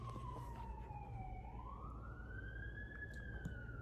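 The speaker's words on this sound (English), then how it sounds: "The sirens." An emergency vehicle siren wails in the distance, its pitch sweeping slowly down and back up in a long rising-falling pattern over a low steady background hum.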